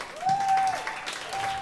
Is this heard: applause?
yes